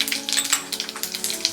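Mustard seeds and cumin hit hot oil for a tindora fry and sizzle close and bright, with quick crackles and pops over a steady hiss.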